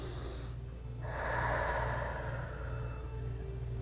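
A person breathing during a seated chair yoga hip stretch, a single drawn-out breath that swells in the middle over a low steady hum, close and fairly soft with no talking.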